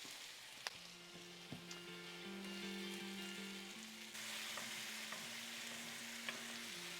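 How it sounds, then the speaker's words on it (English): Steak frying in a pan with onions and steak sauce, a faint steady sizzle with occasional light clicks, while a low tonal hum runs underneath. "We give our steak a nice flip here, get a bit of colour each side of it."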